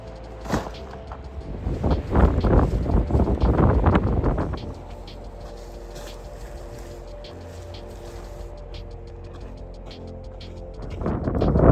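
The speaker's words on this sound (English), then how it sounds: "It's windy, but I got a tree and some rocks to help block the wind." Strong desert wind gusts buffet loudly for a few seconds on the Pacific Crest Trail, then settle into a steady, lower rush of blowing air that swells again at the end.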